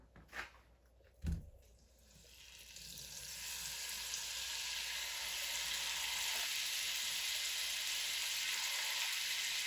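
Half a cup of butter melting in a pan for a maple rum praline sauce: after a couple of knocks, a bright frying sizzle swells up and holds steady and loud to the end.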